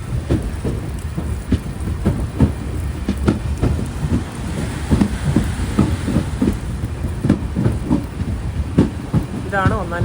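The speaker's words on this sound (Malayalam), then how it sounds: "ട്രെയിൻ ഇതാ കാഞ്ഞങ്ങാട് സ്റ്റേഷനിലേക്ക് എത്തുകയാണ്" A train rolls into Kanhangad station during a rainy Mangaluru to Tirunelveli Express journey, with repeated rhythmic rail clacks and rumble, fairly loud and close, over a wash of rain.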